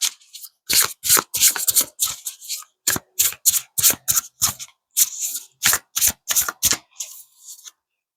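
Animal spirit tarot cards being handled and shuffled up close: a brisk string of about twenty crisp riffling and slapping strokes in a fairly even rhythm, each separated by short silences, with no talking.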